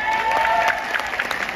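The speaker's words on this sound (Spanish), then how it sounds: "Un aplauso para ella." Audience applause and crowd noise in a theatre concert setting, a short burst of scattered clapping with a sustained tone running underneath.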